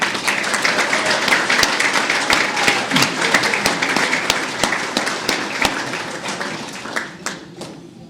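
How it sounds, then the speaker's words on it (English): Audience at a hall of fame athletics ceremony applauds, a sustained wash of many hands clapping with sharp individual claps standing out, steady and loud before thinning near the end. "Please give Larry Marfise another big round of applause."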